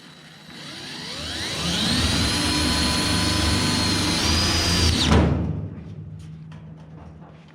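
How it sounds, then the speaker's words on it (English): A power drill drives screws into a Dynacorn replacement roof panel on a 1969 Mach 1 Cobra Jet, its whine rising then holding steady for several seconds before it stops abruptly. The drill is close and loud, with no talk. "I'm just going to run some screws in."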